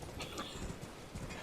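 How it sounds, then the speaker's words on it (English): A horse gallops in the Elden Ring video game, a steady run of muffled hoofbeats at moderate volume with no voices over them. "Ride away with a horse."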